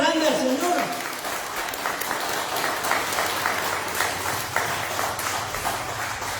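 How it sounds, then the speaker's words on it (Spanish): A church congregation applauds during a Spanish-language service, a dense burst of many hands clapping that stays steady and full for several seconds, fairly close and with no one speaking over it. "Den un aplauso grande al Señor."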